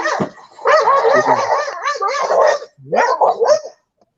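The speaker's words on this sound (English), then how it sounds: "I got a dog barking at I don't know what the heck they're doing" A dog barks close and loud in a quick run of yips and barks, pausing briefly before a final short burst, with no talk over it.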